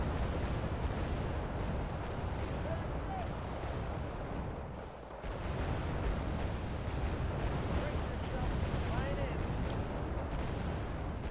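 Artillery fire in the real-time strategy game Wargame Red Dragon, set in a battle for Hong Kong: continuous dense booms and crackling barrages rolling without pause, with a brief dip midway, a voice talking over the din.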